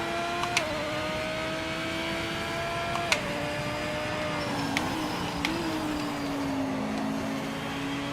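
Porsche race car engine droning steadily in a racing video game, a sustained mid-pitched note that shifts gear-like in steps, with a few sharp clicks over the top and no voices.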